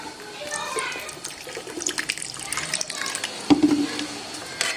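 Water poured from a measuring cup into a pan of sugar to make syrup for shahi tukray, a brief splashing pour over steady kitchen background noise, with a clearer splash near the end.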